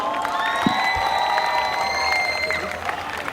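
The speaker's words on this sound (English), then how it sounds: "Can you give him a big round of applause?" Youth drama evening audience applauds and cheers a judge, with clapping, whoops and children's shouts blending into a steady crowd roar, a sustained whistle-like tone running above it.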